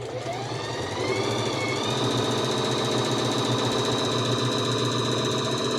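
A Bernette Academy 05 sewing machine stitches through two layers of thin denim at full speed, a loud, dense, continuous mechanical whirring with rapid needle chatter and a rising whine.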